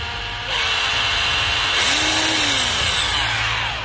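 A Japanese cordless 24V drill running in regular drilling mode whirs loudly at high pitch, with a steady motor whine that rises in speed partway through and then holds, close and alone with no voices.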